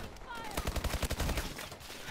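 Rapid Vulcan minigun fire in Call of Duty: Advanced Warfare, a dense burst of quick regular shots at moderate level over game noise, with a faint voice in the mix.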